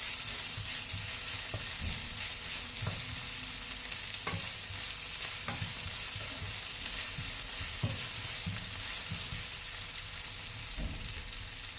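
Beef frying in a pan while being stirred, a soft steady sizzle broken by intermittent scrapes and knocks of a spatula against the pan, close and fairly quiet, no voices.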